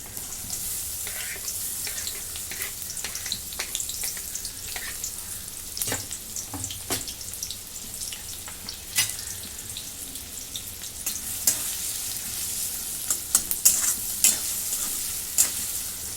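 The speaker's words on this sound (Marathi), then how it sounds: "कढईमध्ये तेल उठून घेतलं आहे आणि बारीक चिरून घेतलेला कांदा आता हा कांदा टाकून घेतला" Finely chopped onion hits hot oil in a kadai on a gas stove, giving a steady close sizzle with scattered sharp crackles and clinks of stirring throughout, no talking.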